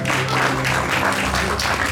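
Audience applause at a Saraswati Puja stage performance, a dense steady burst of many hands clapping throughout the short stretch, with a faint voice beneath.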